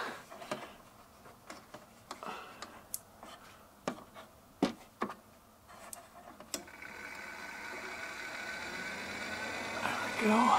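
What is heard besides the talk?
Fantastic Fan roof vent fan running at high speed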